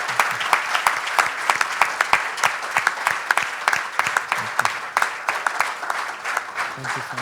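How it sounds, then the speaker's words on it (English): Audience claps after a spiritual talk with music and soul themes, dense and lively applause with many overlapping sharp claps throughout, loud and close, with some crowd voices mixed in. "please give a big round of applause for Maharaj."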